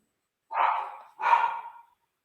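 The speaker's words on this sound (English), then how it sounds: "I'm sorry about the dog." A dog gives two barks in quick succession, each a fairly loud, drawn-out woof close to the microphone with a short gap between them, heard alone.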